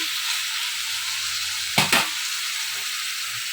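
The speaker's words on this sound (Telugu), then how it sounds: "ఈ విధంగా బాగా మిక్స్ అయ్యేంత వరకు బాగా కలుపుకొని" A taro root tamarind curry mixture sizzles softly and steadily in a pan, with one brief, sharper double scrape of stirring partway through.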